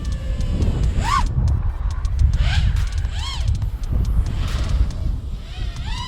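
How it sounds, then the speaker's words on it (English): Gusty wind rumbles against the microphone outdoors while an FPV racing quadcopter flies, its motors whining in rising and falling sweeps as it passes. "It's getting a little bit windy."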